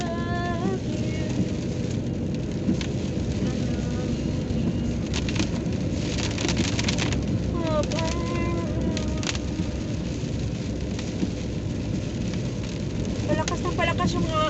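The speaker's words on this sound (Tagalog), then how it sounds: "Palakas na palakas yung ulan." Heavy rain during the rainy season in North Germany pours down as a loud, dense and unbroken roar that grows stronger, while voices talk over it throughout.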